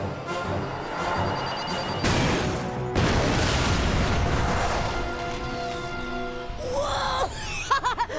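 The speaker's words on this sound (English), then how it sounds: "Check out that explosion! That was awesome!" A large in-game explosion in Ratchet: Deadlocked, a loud rumbling boom that rolls on for several seconds under music and effects, and then voices break in near the end.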